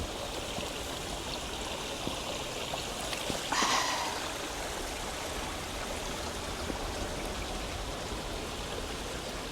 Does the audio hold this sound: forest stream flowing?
yes